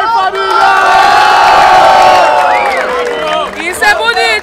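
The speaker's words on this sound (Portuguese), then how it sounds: "Uma salva de palmas pro Nog aí, família!" Crowd cheering, whooping and shouting at a rap battle final, loud, dense and sustained, with voices rising and falling and a few individual shouts near the end.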